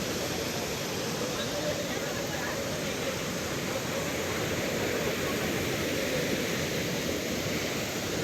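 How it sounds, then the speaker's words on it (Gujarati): Floodwater pours down from Girnar hill in Junagadh during heavy rain, a loud, steady broadband rush with no breaks, like a close waterfall or surging stream. "પાણી ખતરનાક છે અત્યારે જોઈ લ્યો આ બધું ઉપરથી આવે પાણી"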